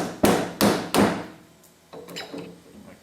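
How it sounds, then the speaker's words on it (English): A hammer taps the spindle off a Toyota 4WD closed-knuckle front axle: three sharp, loud metallic blows in quick succession, followed by fainter clinks and knocks. "Now, I'm going to tap off the spindle,"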